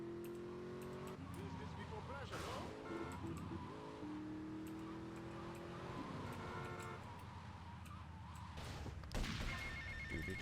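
A telephone rings in Grand Theft Auto: Vice City, a repeating electronic ring mixed with game car engines, music and a crash, while a player talks over it.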